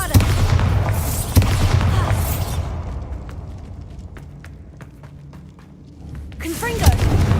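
A Bombarda explosion spell from the Hogwarts Legacy video game erupts in a loud, broad boom that fades into a long rumbling decay, with a sharp crack near the start and another burst of magic near the end.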